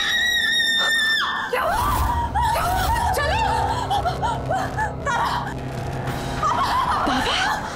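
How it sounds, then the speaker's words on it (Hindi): A woman in a horror TV serial screams loudly and almost without a break, shrill cries rising and falling, with sobbing gasps and whimpers between them. "क्यों चिल्ला रही है?"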